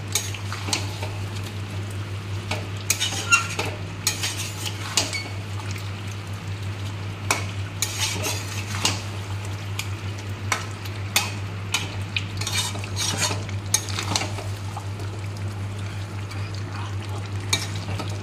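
Chicken for a red chicken curry is stirred and fried down in oil in a pan: a steady close sizzle runs throughout, with frequent sharp spatula scrapes and clinks against the pan and no talking.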